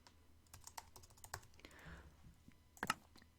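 Keys clack on a computer keyboard as text is typed onto a sign in Minecraft, in a quick irregular run of close, soft taps with a short cluster of louder strikes near the end.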